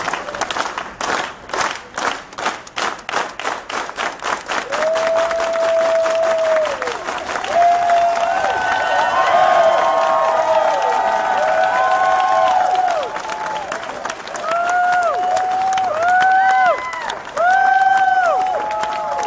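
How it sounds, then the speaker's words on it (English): A conference audience claps in unison, at first in a steady rhythmic beat that builds into loud sustained applause and cheering, with whoops and tonal sounds rising above the crowd noise. "let's give ourselves a real serious unity clap here about what we're planning to do"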